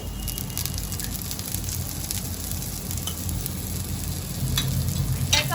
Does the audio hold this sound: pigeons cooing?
no